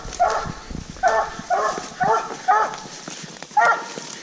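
A Walker hound barks at a tree while coon hunting: six loud, evenly spaced barks at a steady rhythm, fairly close and outdoors, with faint background noise between them.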